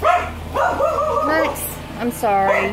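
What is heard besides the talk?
dog barking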